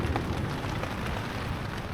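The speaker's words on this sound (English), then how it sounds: "listening to that rain" Steady rain pours down on a coastal camp during Storm Isha, a dense, even hiss of drops hitting surfaces close by, with no voices.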